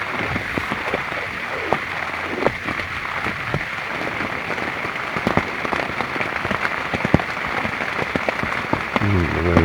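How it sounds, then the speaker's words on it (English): Rain falls steadily on an outdoor bushcraft camp, a dense patter of drops striking surfaces close by, with sharper individual splats scattered throughout and no talking. "The rain sounds so beautiful."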